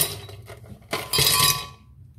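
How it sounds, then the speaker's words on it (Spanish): Ice cubes clatter into a glass jug, a few quick clinks followed by a louder burst of rattling as the cubes tumble in and settle, close and alone. "En una jarra vamos a colocar un poco de hielo."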